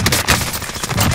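Rapid gunfire crackles in a Call of Duty Warzone match, a loud close burst of shots lasting about a second with no talk over it.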